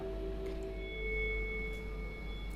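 A soft, sustained metallic ring of a meditation singing bowl played through a projector's speaker, steady and fairly quiet, with a low hum underneath.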